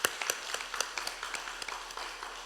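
A congregation at a Friday worship service gives a short, thin round of scattered hand claps for a young keyboard accompanist. The claps are quiet, irregular and fairly distant.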